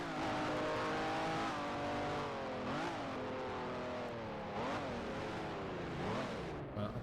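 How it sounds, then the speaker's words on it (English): A race car in a sim racing game roars up the straight, its engine note rising and dipping through repeated gear changes, loud and continuous across the whole stretch. "I could hear a car going up the straight"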